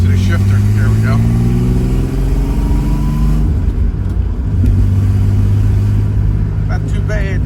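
A 1986 Pontiac Fiero GT engine pulls loudly from close range, revving up with audible gear changes and dropping in pitch between shifts, then climbing again, with someone talking over the drone.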